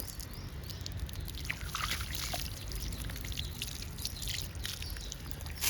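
Water pours onto potted rose plant soil in a steady trickling stream with soft splashes, close by and continuous, with no voices.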